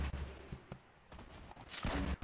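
Gunfire in the video game Fortnite: a few sharp shots, then a louder burst near the end, close and punchy with no one talking.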